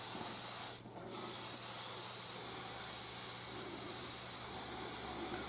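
An airbrush sprays base-colour paint onto a scale model GMC log-transport truck, giving a close, steady airy hiss that breaks briefly once before running on continuously.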